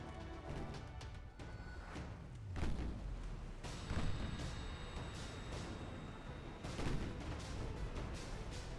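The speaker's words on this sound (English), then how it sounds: "We got a torpedo hit." Torpedo hit on a ship in a Russian naval campaign of the Ultimate Admiral game, heard as a string of deep booms, thuds and crashing blasts over gunfire, several heavy impacts spread through the clip.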